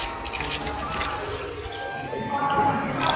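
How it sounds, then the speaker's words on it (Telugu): Water poured into a pot of crab curry, pattering and splashing into the pan as it fills, with faint drips and liquid sloshing heard close up. "ఇలా కలిపేసుకున్న తర్వాత మనం వాటర్ యాడ్ చేసుకోవాలి."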